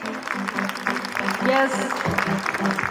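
Audience at a college farewell function claps in a steady patter, with a person speaking over the applause.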